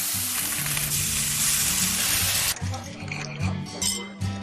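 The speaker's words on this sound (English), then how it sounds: "Long, sunny days, sizzling grills," Steaks on a grill give a loud, steady sizzling crackle that fills the clip, with clinks and soft scraping, and faint low voices murmuring underneath.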